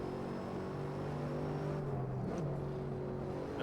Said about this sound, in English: Mega pops from the exhaust.